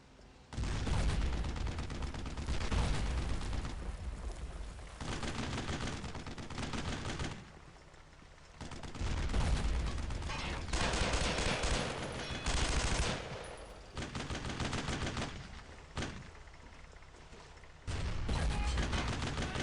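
Sustained bursts of automatic gunfire and heavy shooting aimed at a tank in the World War II shooter Brothers in Arms: Road to Hill 30, loud and continuous with brief lulls between volleys and no talk over it.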